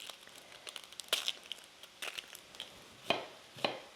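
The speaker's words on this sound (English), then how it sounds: "I'm just gonna dice up an onion." An onion is diced with a knife for a one-pot southwestern skillet, giving a few sparse, crisp cuts and crunchy taps at an uneven pace, close and fairly quiet, with no talk.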